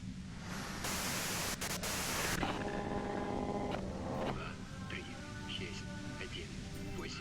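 Loud hissing static fills the scene in the video game Disco Elysium, a broad steady wash with a sharp burst early on, then faint tonal hums and electronic tones under the noise.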